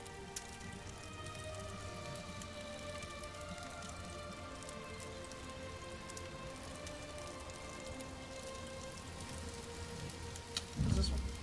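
Steady, soft rain patters down in Elder Scrolls Online, a continuous quiet hiss of drops with faint scattered ticks, ending in a brief louder thump.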